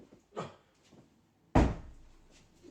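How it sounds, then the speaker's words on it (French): A door slams shut once with a sharp, heavy bang after a lighter knock or thud, then the room goes quiet. "j'ai pas fait exprès de claquer la porte"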